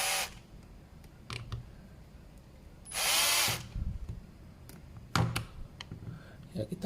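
A power tool tightens JF bolts on the modified paint tank of a Multipro ESP99HP electric spray gun, giving a loud whirring burst near the middle and a shorter one later, with quieter handling clatter between.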